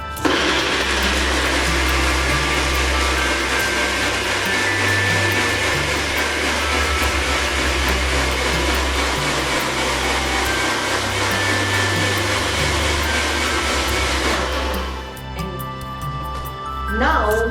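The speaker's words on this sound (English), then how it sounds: "Just mix it with the spoon and then blend it in the blender." A blender whirs loudly and continuously while mixing a fat burning drink, running steady for about fifteen seconds before cutting off, with light clinks and talk afterward.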